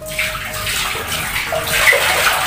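Water splashes and rushes steadily into a clogged toilet bowl, a continuous pouring wash with a slight gurgle, close by and fairly loud.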